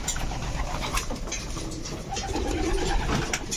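Domestic pigeons in a loft cooing softly at feeding time, a low murmuring coo rising toward the end, faint and close, with no talking.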